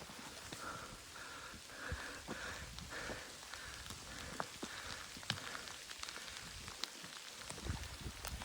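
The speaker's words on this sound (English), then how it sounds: "It's raining." Rain patters steadily on a hiking trail in the Georgia wilderness, soft and continuous with scattered sharper drops striking nearby surfaces and no voices.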